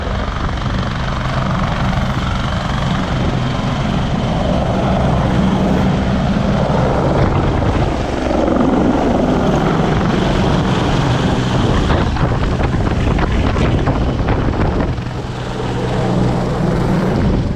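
Helicopter flying near a riverside heliport along a bike path, a loud steady rotor roar that swells and shifts in pitch as it passes close, mixed with wind buffeting on the microphone throughout.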